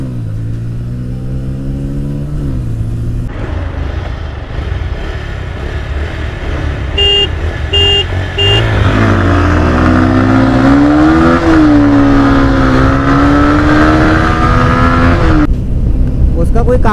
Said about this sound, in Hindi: चलो भाई अपनी उसकी ड्रैग रेस करते हैं।